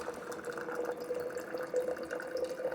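Hot water at 154 degrees runs steadily from a Waterdrop C1-G reverse osmosis dispenser into a bottle, a thin continuous trickle with a faint rising tone as it fills.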